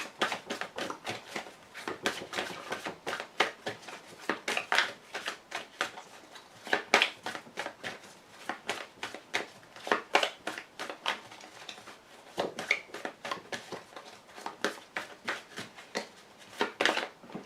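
A deck of cards is cut and shuffled with quick, dense rippling flutters and soft slaps repeated in a steady rhythm, close by and fairly quiet.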